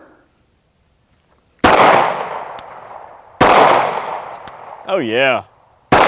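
Handgun shots fired at soda cans outdoors: three sharp, loud reports spaced about two seconds apart, each with a ringing decay, plus a brief whirring tone between the second and third; someone speaks briefly.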